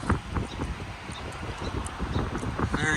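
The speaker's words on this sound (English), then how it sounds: "It's very windy," Strong outdoor wind on an overcast day buffets the microphone with uneven gusts and rumble, with faint rustling and a few light knocks mixed in.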